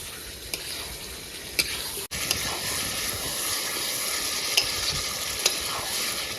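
Pangas fish frying in a spice masala, a steady dense sizzle with stirring and occasional sharp clicks of a utensil against the pan, one brief dropout near the middle.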